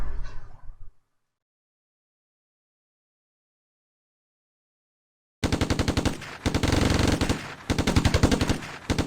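Rapid machine-gun bursts from units attacking in the strategy war game Advanced Tactics Gold, loud rattling volleys that start abruptly after a long silence and continue in dense repeated runs.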